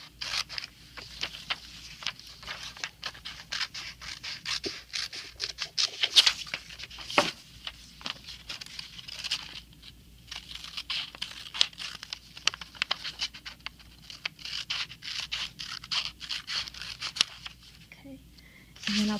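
Scissors cut out the roof of a milk carton at close range, with repeated crisp snips, scraping and crinkling of the waxed cardboard interrupted by brief pauses, plus a voice speaking intermittently.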